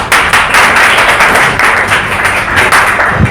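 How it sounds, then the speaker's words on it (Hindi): A seminar audience in Chhatarpur claps loudly and continuously, a dense close burst of many hands filling the whole stretch without a break. "एक बार अपने लिए ताली"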